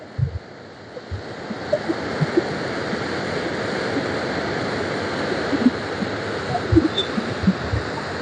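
Forceful water rushing and crashing at Neyyar Dam, a dense, steady roar that fills the clip continuously from start to finish, close by and loud, with no voices heard.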